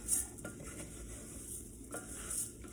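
Garlic, ginger and turmeric with rice browning in a pan give a faint sizzle, with scattered light clinks and scrapes from stirring. No one talks.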